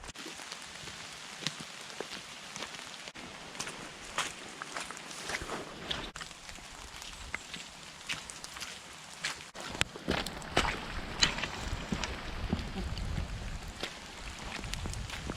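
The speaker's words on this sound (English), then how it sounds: "I knew it was going to rain hard today," Heavy rain patters on a muddy forest trail on a hiking route, a steady hiss of drops with intermittent footstep-like thuds growing louder and closer toward the end.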